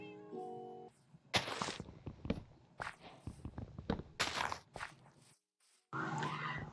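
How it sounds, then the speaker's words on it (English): Cat in Minecraft, several short meows interspersed with blocky footstep thuds as it is chased, close and clear with brief silent gaps and game music at the start. "This is me chasing down a cat, so you know, getting a cat pet because that's fun."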